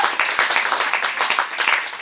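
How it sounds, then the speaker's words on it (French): A church congregation applauding in praise during a bilingual worship service, steady moderate clapping from many hands, somewhat distant. "Let's give the Lord a big hand of praise."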